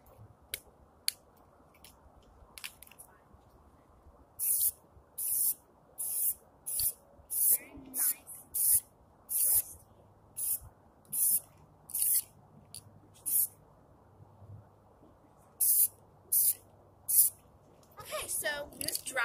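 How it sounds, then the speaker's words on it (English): Krylon Color Master red oxide primer is sprayed from a can in short, sharp hissing bursts, about a dozen in a fairly even rhythm, close and clear, with faint bird chirps near the end. "I use it as a spray paint."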